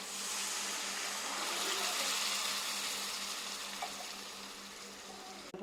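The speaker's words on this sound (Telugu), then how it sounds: "ఇందులో ఇప్పుడు వాటర్ వేసుకుందాం." Water is poured into a pan of frying masala, a broad, loud rushing hiss that swells for a few seconds and then eases off slightly, heard close and without speech.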